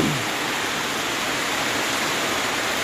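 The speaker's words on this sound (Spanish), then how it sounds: "Y está lloviendo recio todavía." Heavy rain pours steadily during a strong storm, a dense, loud, unbroken hiss with no voices over it.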